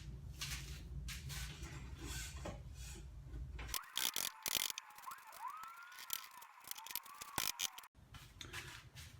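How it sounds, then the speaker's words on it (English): A ratchet tightens the bearing bolts on a car's rear axle during replacement, giving quiet bursts of clicking and rasping with short pauses between strokes. "we're going to start tightening up the bolts on the bearings"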